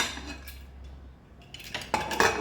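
Metal lid set onto a cooking pot of vegetable pulao, a few light clinks and scrapes of metal on metal near the end after a quiet stretch, with no talk.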